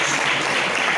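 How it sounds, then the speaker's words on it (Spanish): Audience applause at the close of a Spanish talk on sustainability and new genetic improvement techniques: a dense, steady wash of many hands clapping together, sustained and fairly loud, with no voices over it. "vamos a despedir con un fuerte aplauso a José Miguel"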